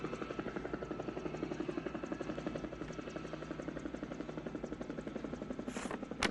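A helicopter's rotor thumps in a fast, steady pulse throughout, loud and continuous, with a brief sharp burst of noise near the end.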